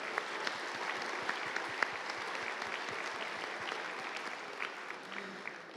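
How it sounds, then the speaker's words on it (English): Steady applause from a small crowd at a miniature painting awards ceremony, an even wash of clapping that carries on without a break. "Round of applause for these silver medal winners."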